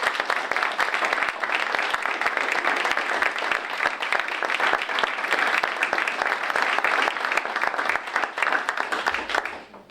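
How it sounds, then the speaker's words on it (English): Sustained audience applause at a government-accountability event, a dense, steady roar of many hands clapping that holds evenly for nearly ten seconds before fading at the very end. "Let's give a round of applause."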